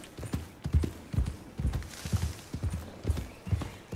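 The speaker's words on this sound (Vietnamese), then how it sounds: "ê đây có ngựa nữa các bạn" Horse hooves clip-clop in Red Dead Redemption 2, a steady close rhythm of hollow thuds with a soft whinny-like undertone, no talk over it.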